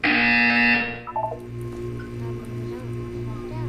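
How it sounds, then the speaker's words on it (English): A loud, steady electronic buzzer in a video game blares for about a second, then cuts off, leaving a quieter rhythmic hum and faint background tones. "When you hear the buzzer, look up at the ceiling."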